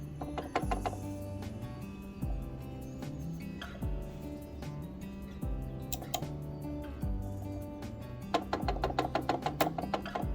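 A gaming mouse with unbalanced feet rocks and taps on a desk, making irregular small clicks and rattling knocks, some in quick clusters, over a faint steady background.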